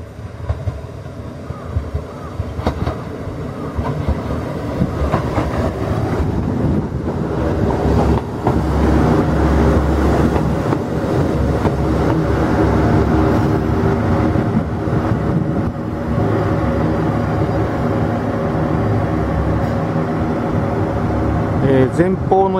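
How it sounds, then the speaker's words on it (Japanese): A JR local passenger train rumbles past near Sakahogi Station, a steady loud rolling roar building and holding for some time, with someone talking over it. "美濃田の方から普通列車が来ましたね。"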